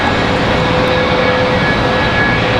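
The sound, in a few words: Airbus A319 jet departing at Charlotte airport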